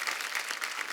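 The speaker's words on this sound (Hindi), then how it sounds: "एक बार जोरदार तालियां दिलीप साहब और धर्म पाजी के लिए" Studio audience applause on a comedy talk show honouring film actors Dilip Kumar and Dharmendra, a dense steady patter of many hands clapping at moderate volume, heard without speech.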